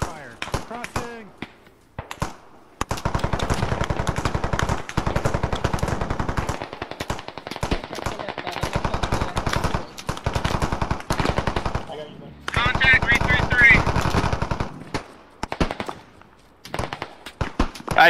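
Rapid bursts of automatic gunfire rattle at a doorway during a video game, long sustained volleys with brief gaps and scattered single shots, fairly loud and close.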